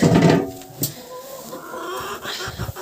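Several hens cluck and chatter nearby in a farmyard shed, a busy, uneven murmur as feed of beets and bran is prepared, with occasional louder squawks and some rustling.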